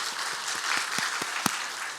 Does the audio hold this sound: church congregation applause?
yes